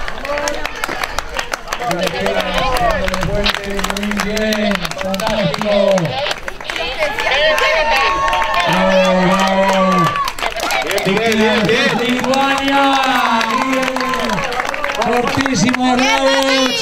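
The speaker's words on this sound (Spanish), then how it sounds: "muy bien, ese aplauso." Spectators at the finish of a masters cycling race in Porreres keep up continuous clapping and crowd noise while an announcer talks almost nonstop over the din.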